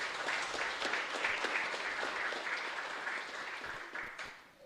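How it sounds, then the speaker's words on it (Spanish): A church congregation applauds during a live Mass at a chapel in Luque, steady massed clapping with individual claps standing out, tapering off softly at the end. "y vamos a darle un fuerte aplauso"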